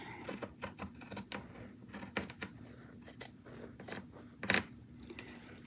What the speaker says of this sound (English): Does anyone love the sound of cutting fabric with scissors?